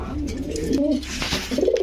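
Fancy pigeons of breeds such as potter, beauty, sherting and blondinette, kept for sale, coo nearby in low, rolling murmurs over a faint background hum.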